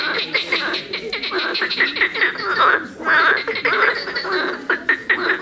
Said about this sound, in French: La grenouille rieuse.